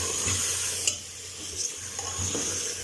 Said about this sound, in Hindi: अब अच्छी तरह मसाले के साथ गोश्त को फ्राई करेंगे